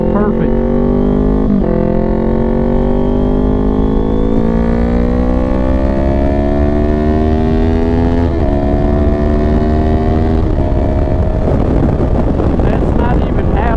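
600cc-class sport motorcycle engine pulling hard through the gears while riding, its pitch climbing in repeated sweeps broken by quick shifts, loud and close under heavy wind noise, with a rider talking over it.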